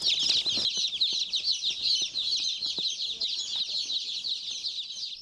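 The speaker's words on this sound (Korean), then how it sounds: "알에서 부화된 지 이제 이틀 된 토종 병아리들이다." Two-day-old native chicks peep in a constant high, shrill chorus, close by, with light rustling and brief faint talk underneath.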